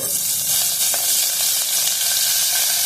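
Curry leaves sizzle in two or three spoons of hot oil for tempering, making a loud, dense, continuous hiss with occasional crisp pops, close up and alone.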